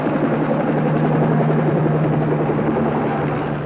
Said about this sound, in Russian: Вертолет приближается к месту его жительства.